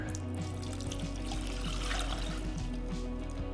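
Water poured into a pot on the stove while making gravy, a soft continuous trickle and splash over a low steady hum from the kitchen, fairly quiet and without talk.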